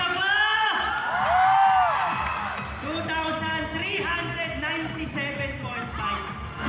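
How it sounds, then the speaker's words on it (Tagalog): A Mother's Day crowd at the Santa Rosa Balibago complex gives applause mixed with cheering and shouting, voices whooping loudly at first and then continuing in a busy, lively din. "palakpakan na may kasamang sigawan"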